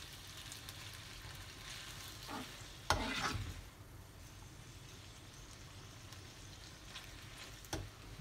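Spaghetti is stirred into a sizzling beef sauce in a pan, a soft, steady frying hiss broken by one clear scraping stir and a few lighter clinks, with no talk.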